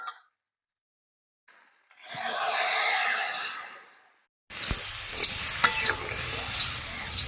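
Water hits a pan of frying chicken for village-style biryani, giving a loud burst of hissing steam that swells and fades, followed by sizzling and scraping stirs with clinks of a spoon.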